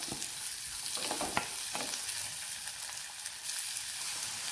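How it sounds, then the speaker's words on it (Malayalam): Green chillies and chopped ginger sautéing in a pan for a tomato curry, a close, steady sizzle broken by a few quick stirring scrapes near the start. "ഇഞ്ചി നമ്മൾ അരിഞ്ഞെടുത്തതും കൂടെ ഇതിൻ്റെ കൂടെ ചേർത്ത് കൊടുക്കാം. വഴറ്റിയെടുക്കാം."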